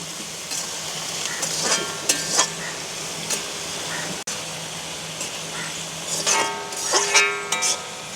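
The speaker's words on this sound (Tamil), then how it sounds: "இப்படியே நல்ல வடிவாக பிரட்டி விடுவோம். வெங்காயம், பச்சை மிளகாய் கொஞ்சம் வதங்க வேணும் எங்களுக்கு." Onion and green chilies sauté in a pan in a village kitchen, with intermittent spatula scrapes and clinks against the pan over a soft sizzle, close by.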